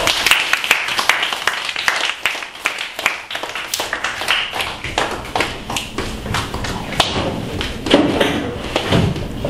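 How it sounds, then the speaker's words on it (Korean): High school students in a law and politics class clap for their class president, irregular, uneven claps with taps and thumps scattered through, close by and lively, lasting most of ten seconds. "박수 한번 쳐주시죠"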